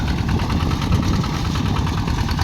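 A walking tractor's engine runs continuously in a rice field, a loud, close, rough drone with a steady rattling pulse.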